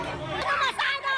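A crowd shouts and clamors during a tense scuffle over a shirtless drug suspect in Olongapo City, with agitated overlapping voices rising and falling in close, busy bursts.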